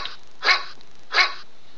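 A dog gives two sharp, loud barks close by, about a second apart, over a quiet steady background.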